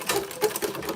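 A sewing machine running a quick back stitch, a brief close burst of rapid mechanical needle clatter lasting about a second.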